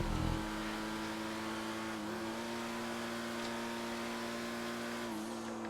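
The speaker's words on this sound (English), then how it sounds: "Pariah's so good with its mid-drive speed boost" A Pariah sports car engine drones steadily while driving in GTA 5 on PC, with a continuous, fairly loud hum whose pitch shifts slightly as speed changes.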